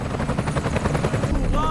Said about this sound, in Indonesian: tiba-tiba sebuah helikopter militer mendarat di dekat lokasi tersebut